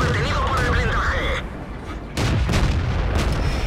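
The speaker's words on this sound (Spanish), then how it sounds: "Fijaos aún así la velocidad de disparo del cañón." Tank cannon fire in World of Tanks from an American M10 Wolverine tank destroyer, heard as loud booming shots with a short drop in level between bursts and a dense rumbling battle backdrop.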